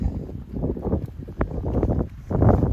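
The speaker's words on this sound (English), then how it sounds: "It's still windy" Gusty morning wind at Middleton Crag buffets the microphone in low rumbling bursts, rising and falling unevenly, with a louder gust toward the end.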